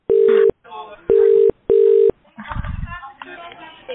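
Three loud, steady electronic ringback tones of about half a second each, evenly spaced, from a phone call in The Transfer Game video game, followed by a burst of muffled talk and low rumble.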